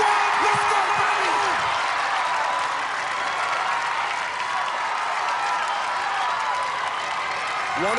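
A packed crowd cheers and applauds steadily at a ninja warrior competition, a dense roar that carries throughout with voices shouting over it.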